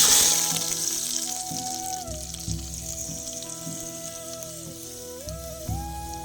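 Curry leaves sizzling in hot oil for a Gujarati village-style fresh tuvar curry, a steady bright crackle and hiss throughout with a faint tonal whine and low thumps underneath.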